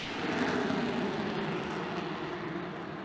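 A loud, steady jet engine roar from an F-35B Lightning II fighter jet, with a broad rushing hiss, sustained throughout without pause.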